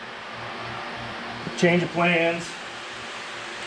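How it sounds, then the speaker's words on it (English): A fan runs in a workshop during a car oil pump teardown, a steady low whooshing whir that continues under a brief spoken remark. "Sorry about the fan"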